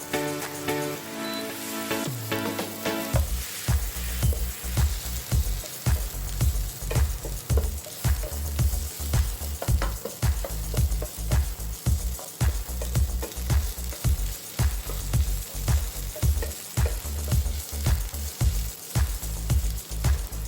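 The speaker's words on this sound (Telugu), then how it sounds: "కొంచెం ఫ్రై చేద్దాం." Taro root curry with ginger paste fries in a pan, a continuous close sizzle broken by regular rhythmic pulses of stirring, after a brief quieter start.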